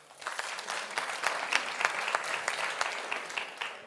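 An audience claps together in dense, sustained applause that stays fairly loud and even throughout, with many overlapping hands close by.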